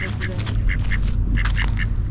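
Ducks at a lake swimming area at Lake Chelan State Park quack in quick repeated bursts, fairly close and loud, with a soft outdoor background beneath.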